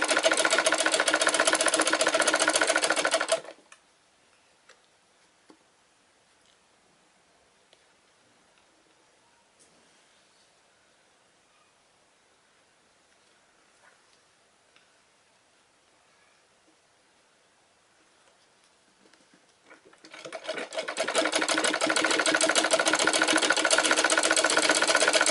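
A sewing machine stitches a cloth roti cover in a loud steady whir that stops for a long quiet stretch, then starts up again near the end.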